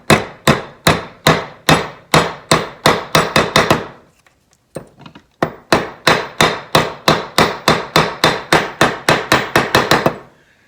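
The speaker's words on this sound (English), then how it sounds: "now I'm just going to kind of hammer it over itself to make a shaft or a shank" Steady hammer blows on folded metal, shaping a shank for a soldering iron, ring out in quick rhythmic runs, close and loud, with a short pause midway before the pounding resumes.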